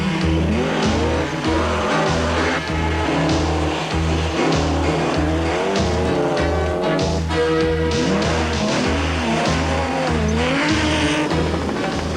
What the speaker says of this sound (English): The Audi Quattro S1 is an awesome piece of machinery.